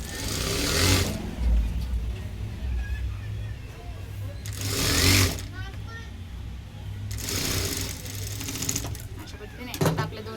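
Sewing machine stitching the folded edge of a blouse sleeve, running in short bursts of whirring with pauses between and a steady low hum throughout.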